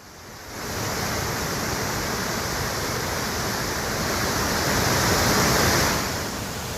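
The Hogenakkal waterfall on the Kaveri river, where tourists bathe, gives a loud, dense, unbroken roar of falling water that swells slightly near the end, with no talking.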